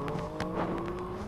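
A Speed World Challenge GT race car lapping the Sebring circuit in 2002, heard from the cockpit as a loud, steady engine drone with small rhythmic pulses, no voices.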